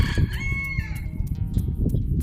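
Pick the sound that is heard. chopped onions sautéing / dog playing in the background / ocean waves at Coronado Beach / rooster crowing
rooster crowing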